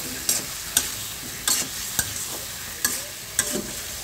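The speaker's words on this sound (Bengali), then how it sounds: "টমেটো দিয়ে সুন্দর করে কষিয়ে নেব।" Tomatoes sautéing with fish masala in a pan for a Bengali fish bhuna, a low sizzle broken by a string of sharp stirring scrapes and spoon knocks at close range.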